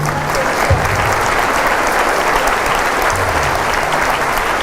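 An audience applauds steadily at a Catholic priest's talk, dense and loud clapping that holds evenly from start to finish without pause.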